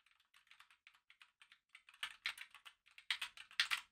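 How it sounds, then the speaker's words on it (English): Clicky mechanical keyboard being typed on up close, with a run of light, evenly spaced keystrokes that turns into louder, denser bursts of clacking, with no talking. "This one is clicky. The keys have to travel a bit."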